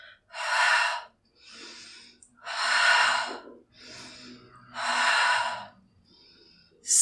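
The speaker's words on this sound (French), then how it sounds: "on remonte en soufflant. On prolonge l'expiration." Long, audible exhalations during a Pilates exercise, three or four drawn-out breaths spaced a second or so apart, close and fairly loud, with quiet gaps between them.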